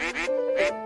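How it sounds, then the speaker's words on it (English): Ducks quacking in a stadium setting, two loud nasal bursts of quacks close by with a brief gap between them and a sustained tonal note underneath. "the ducks only kept circling the stadium, without really doing anything but quack"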